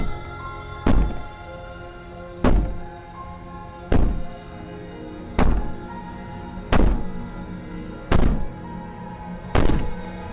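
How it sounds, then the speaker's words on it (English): Heavy banging on a wooden cabin door in the video game Slay the Princess, seven loud, evenly spaced thuds about every one and a half seconds over a low ambient drone. "Maybe the banging and wailing will stop if you just don't pay attention to it."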